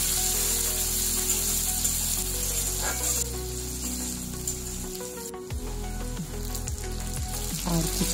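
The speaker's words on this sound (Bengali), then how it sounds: "এরপর পেস্ট করা রসুন, পেস্ট করা আদা দিয়ে ভালোভাবে ভেজে নিচ্ছি।" Onion fries with garlic and ginger paste in a kadhai for kadhai paneer, a loud continuous sizzle with scraping stirs and occasional clanks of a spatula against the pan, no talking.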